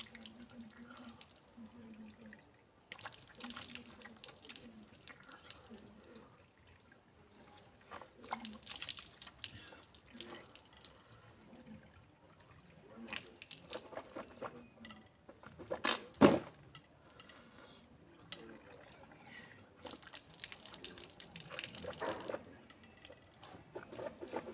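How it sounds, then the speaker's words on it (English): Water runs from an outdoor tap in Africa at sunrise while someone washes their face, giving intermittent splashing and pattering with steady flow and a louder splash near the middle, close by with no talking. "here's where I usually wash my face, guys. On this tap."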